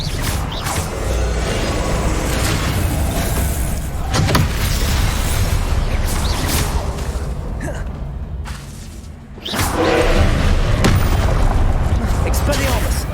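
Blasting-spell explosions from Hogwarts Legacy combat: repeated loud booming bursts over a dense, continuous wash of battle noise, with a brief lull near the end before another heavy blast.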